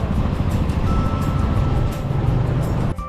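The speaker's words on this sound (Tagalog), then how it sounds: "May truck ng basura." A garbage truck passes in traffic, heard from a motorcycle ride as a loud, constant engine and road rumble with a brief knock near the end.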